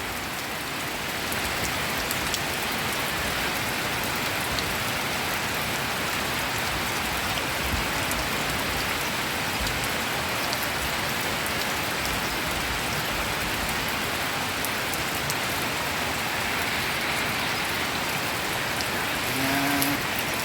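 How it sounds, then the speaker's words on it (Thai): Rain falls in a steady, dense patter that carries evenly from start to finish, a continuous soft hiss of many drops on surfaces. "ฝนก็มาฝนก็มา"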